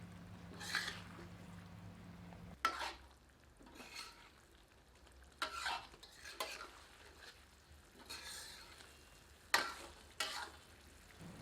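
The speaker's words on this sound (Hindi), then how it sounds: "इसे तीव्र आंच पर 1 से 2 मिनट करछी चला चलाकर पकाते हैं।" Stuffed chili pieces cook in a thick masala gravy over high heat as a ladle stirs them in several distinct scraping strokes over a quiet sizzle.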